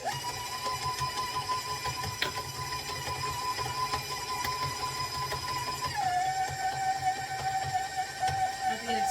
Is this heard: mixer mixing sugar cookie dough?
yes